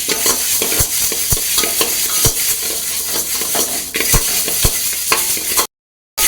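Spices for sambar powder are roasted in a pan with steady sizzling and rhythmic scrapes of a stirring spoon, each clack sharp and close, ending in a short silence.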